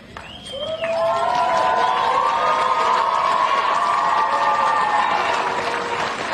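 A crowd at a high school commencement applauds and cheers for the graduates, swelling after a brief shout into sustained, loud clapping with scattered whoops that holds steady throughout.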